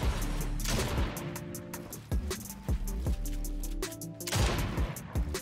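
Rapid gunfire in Fortnite, played on controller, with quick bursts of loud shots cracking close together and separated by brief gaps, over game effects and without speech.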